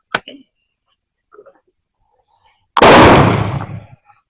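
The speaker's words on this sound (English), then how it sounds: "I am going to shoot the CCI mini mags and see what kind of grip we get at 100 yards" A single sharp crack from a Walther .22 caliber training rifle firing a CCI Mini Mag hollow point round outdoors, loud and close with a short ringing tail after a few quiet seconds.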